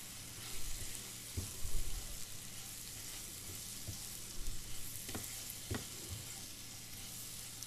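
Gram flour (besan) being stirred and roasted in a pan of tinda curry, a faint sizzle with soft, occasional scraping strokes of a spoon, with no voices.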